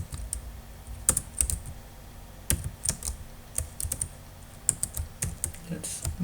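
Computer keyboard keys are tapped in quick irregular bursts while Java code is typed, a close, soft clatter with short pauses between runs of keystrokes.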